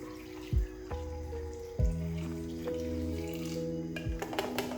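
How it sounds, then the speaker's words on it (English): Water poured into a pot of seasoned potatoes, heard as a run of close, resonant splashes and drips with ringing tones as the pot fills, some short and sharp, others sustained, with no one talking. "Then I'll go in with some water."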